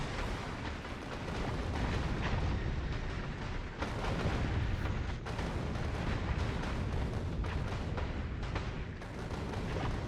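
Defensive turrets in the video game Factorio fire in a dense, continuous barrage of rapid booming shots, loud and steady throughout with no pauses and no talk.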